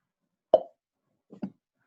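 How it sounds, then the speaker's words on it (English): Two faint pops a moment apart, the first a sharp single plop, the second a softer double pop, with silence around them. "with a faint popping sound"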